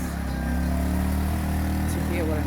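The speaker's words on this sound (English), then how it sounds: "Okay, the motorbike has passed." A motorbike rumbles steadily close by, its engine drone loud and continuous throughout as it passes, with a voice faintly mixed in.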